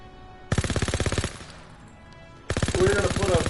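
An automatic gun fires in Call of Duty WWII: a rapid burst of evenly spaced shots, a pause, then a second burst. It is loud and close, with a voice talking over the second burst.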